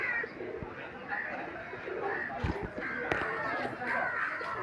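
Pigeons coo and flutter nearby at a poultry and pigeon market, their soft warbling calls overlapping amid murmuring voices and general background bustle.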